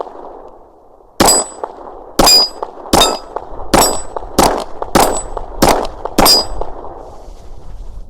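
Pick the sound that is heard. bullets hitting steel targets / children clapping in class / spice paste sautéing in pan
bullets hitting steel targets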